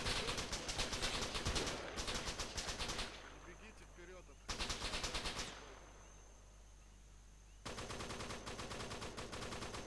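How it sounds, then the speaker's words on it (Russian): Bursts of automatic rifle and machine gun fire crackle in the ARMA 3 military shooter game, loud rapid volleys separated by quieter gaps with fainter distant shots and faint voices. "Еще оттуда слева кто-то стреляет."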